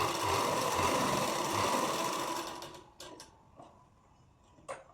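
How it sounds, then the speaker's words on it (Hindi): A sewing machine stitches a princess-cut deep-neck blouse, running in a steady, busy whir for about three seconds before stopping. A few faint clicks and taps follow as the fabric is handled, with no talking. "प्रॉपर सेट करके हमको लगाना है सिलाई"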